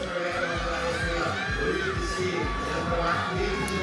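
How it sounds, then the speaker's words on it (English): Children in the crowd at a lead-climbing semi-final in Koper shouting and cheering continuously, a bright, dense wash of young voices with a steady rhythmic stomping or clapping beneath. "Love those kids in the crowd"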